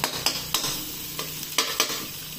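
Ginger and garlic sautéing in a pan for a Filipino chicken curry, with a steady sizzle broken by several sharp stirring scrapes of a utensil, close and alone.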